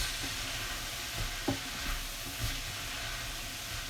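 Chicken and vegetable soup is stirred in a pot, with a continuous soft hiss and sizzle under a few faint knocks and scrapes of a utensil, fairly quiet and with no voices.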